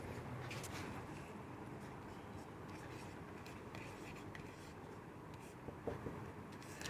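Pen scratching steadily across paper while notes are written in a copy book, a soft continuous scribbling over low room noise.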